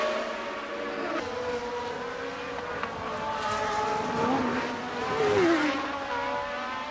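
Formula 1 race cars of 1981 at the Dijon circuit in France, engines droning steadily with a rising, swelling pass near the end as a car sweeps down the straight.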